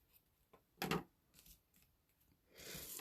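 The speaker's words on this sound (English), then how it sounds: "I'm going to give this a little trim because it's a little long here." Scissors trimming paper for a handmade card, quiet and close: a few small snips, one sharper cut, then a longer sliding cut at the end.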